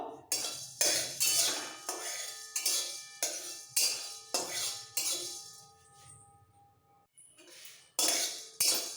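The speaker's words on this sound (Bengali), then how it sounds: "শুকনো লঙ্কা দিচ্ছি মশলাটা একটু ডাই রোস্ট হবে আর দেবো গোলমরিচ আর মৌরি এক চামচ একটু ডাই রোস্ট করে নেব" Dried red chilli, black peppercorns and fennel seeds are dry-roasted in a pan, with a utensil scraping and clinking against the metal in quick, regular strokes about twice a second before a short pause and a final stir.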